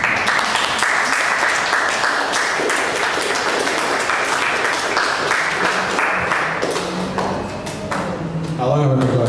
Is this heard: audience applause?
yes